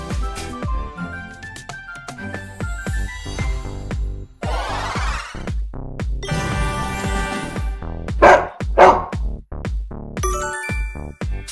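A dog barks twice in quick succession within a bright children's music track full of jingles and chimes.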